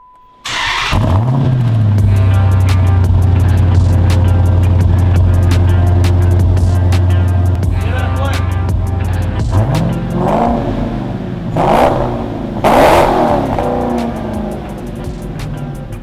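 A car fitted with an upgraded street package exhaust starts loudly, settles into a steady idle, then gives several sharp rising revs that fall back, close and dominant throughout.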